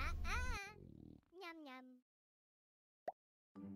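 A cartoon cat meows in the Talking Tom mobile game, giving a few rising, wavering cries up close with a short chirp near the end, plus a brief grunting sound.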